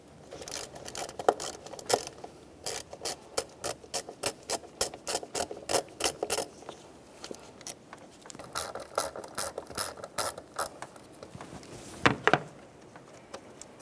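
A ratchet driver loosens the Phillips head screws holding the mass airflow sensor on a 2012-2018 Nissan Altima 2.5L, making close, rapid bursts of clicking with short pauses between runs and a couple of louder knocks near the end.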